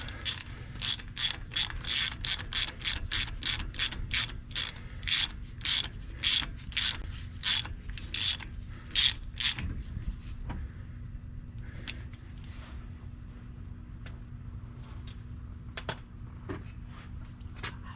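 A ratchet wrench clicks rapidly and steadily while tightening a 13mm bolt on the front hub bearing assembly of a 2004 Ford F150 V8 4WD truck. The clicks come in quick bursts up close for about ten seconds, then turn sparse against a low steady hum.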